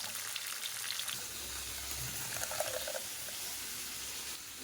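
Shrimp frying in a pan with already fried potato and pointed gourd, giving a steady, fairly quiet sizzle with some watery bubbling and light stirring throughout.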